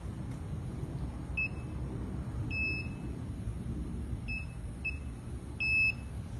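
A handheld security wand metal detector gives short, high electronic beeps, about six of them spaced irregularly, each brief and clear over a low background hum.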